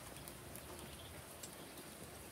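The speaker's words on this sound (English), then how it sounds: "It's raining." Faint, steady rainfall in New Braunfels with soft pattering hiss and occasional brief droplet taps, heard from a distance.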